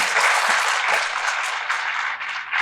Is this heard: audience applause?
yes